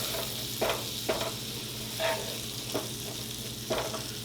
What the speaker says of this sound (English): Add in our garlic and our seasoning. And we're just going to combine that all together